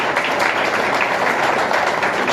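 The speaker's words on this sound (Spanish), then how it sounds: "Un aplauso para Roberto porque se lo merece." An audience at a scientific writing workshop claps steadily and fairly loudly, a dense, even patter of many hands that carries on without pause.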